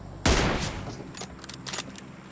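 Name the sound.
gunfire in the video game PUBG Mobile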